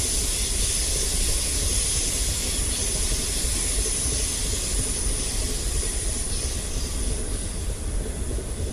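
A train in the Train Simulator 2019 game rolls steadily along the rails on a steep incline near Streatham Hill, London, with a constant rumbling drone and a thin high whine above it, continuous throughout.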